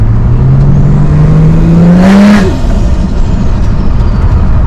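A car with a ZFR80 automatic transmission on a stage 3 tune revs hard against the foot brake. The engine note climbs steadily and loudly for about two seconds, then drops away to a rough idle rumble.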